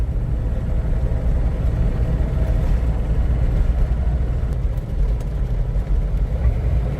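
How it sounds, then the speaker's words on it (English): An open-top 1998 Hummer H1 rolls along a very bumpy road, its engine droning low and loud throughout, with dense rattling and thumping from the rough surface and no talking. "we're on a really bumpy road"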